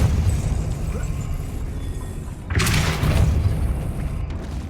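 Depulso spell blast in the video game Hogwarts Legacy: a broad, booming burst hits at mid-clip and rolls on loudly over a steady low rumble of game ambience.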